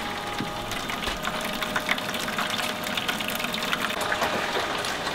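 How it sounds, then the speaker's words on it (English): A small 12 volt pump transfers brewing water for an all-grain beer brew, giving a steady wash of flowing water over a constant mechanical hum, close and continuous throughout, with no talking. "I'm simply transferring the water across via the little 12 volt pump"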